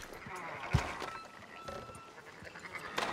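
Sheep bleat in the video game Red Dead Redemption 2, with a few short, fairly close calls over a soft outdoor background.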